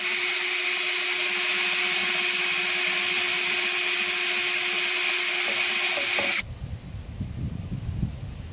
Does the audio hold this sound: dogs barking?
no